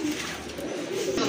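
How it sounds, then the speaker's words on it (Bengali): A pair of Spanish Pouter pigeons gives a brief, soft, throaty coo close by, with no talking. "এক জোড়া স্প্যানিশ পটার"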